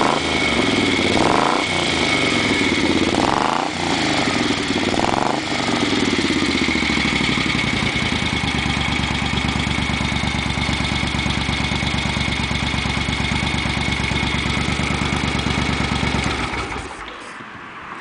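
A restored 1971 Moto Guzzi motorcycle engine revs up three times in loud blips, then settles into a steady, throbbing idle that runs on close and alone before cutting off.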